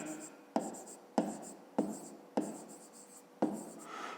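Pen writing out a math answer for a fifth-grade area problem, six sharp strokes repeating at a steady pace, close and fairly quiet with no voice.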